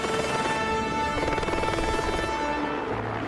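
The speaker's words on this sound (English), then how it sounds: "we got very, very good at loading in and out of choppers" Helicopter rotor and engine noise on location filming in New Zealand, reaching the remote shoot sites, a steady loud continuous drone with a rhythmic low thumping throughout and no voices.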